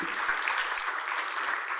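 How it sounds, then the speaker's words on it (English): An audience claps for award winners at a college MLK Day celebration, steady even applause with scattered louder claps, sustained at a moderate level with no break. "let's give another round of applause to all of our winners today"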